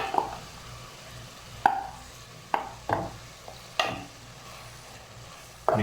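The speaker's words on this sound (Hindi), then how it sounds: "मिक्स कर लें अच्छी तरह।" A spoon stirring tomatoes into chicken gobi in a pan: about six sharp scraping clanks at an uneven pace, each trailing off over a soft, steady sizzle, with no talking.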